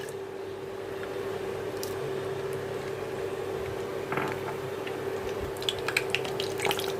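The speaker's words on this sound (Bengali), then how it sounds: "মশলাগুলো হালকা ভাজা হয়ে গেলে" Bay leaf, cardamom and cinnamon fry in hot oil in a pan, giving a steady, soft sizzle. A few light clinks and crackles come near the end.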